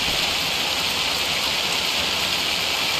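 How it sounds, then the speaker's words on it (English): Loud rain in Farming Simulator 25 on an Asian map, a dense, constant hiss of downpour that fills the scene evenly and steadily with no talk over it. "I know that rain is freaking loud, though."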